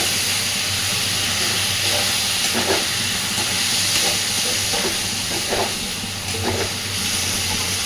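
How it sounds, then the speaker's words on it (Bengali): Fish curry of fish oil being stirred in a pan over a medium-low flame, with a loud, steady sizzling hiss and repeated scraping strokes of a spatula, close up and continuous. "গ্যাসের ফ্লেমটাকে মিডিয়াম টু লোতে রেখে সুন্দর করে সব কিছুকে মিশিয়ে দেব"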